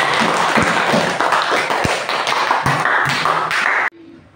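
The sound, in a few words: classroom applause for a student's answer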